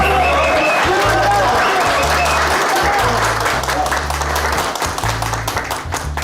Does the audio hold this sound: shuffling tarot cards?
no